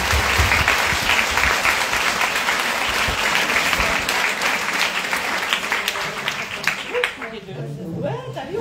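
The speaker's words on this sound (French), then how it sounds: "Un applaudissement pour Madame Nadège" An audience at a talk on stones and their virtues claps steadily for Madame Nadège, dense applause lasting several seconds before tapering off, with voices emerging near the end.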